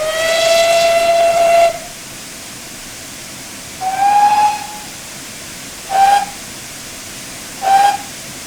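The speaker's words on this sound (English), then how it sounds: "So we've got the short blasts, we've got the B whistle." A GWR 7800 class steam locomotive whistle sounds four times: one long blast, a medium one, then two short toots, with faint hiss between them.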